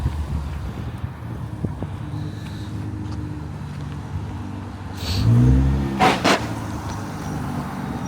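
Cars passing on a Welsh road trip, including a Hyundai i20N and an 800 horsepower Nissan GTR: a low rumble, then a louder engine swelling past around the middle, followed by a short sharp burst.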